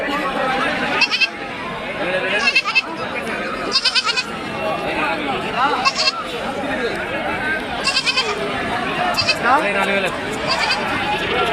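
Goats bleat repeatedly at a busy market, some close and loud and others farther off, over steady crowd chatter and people talking.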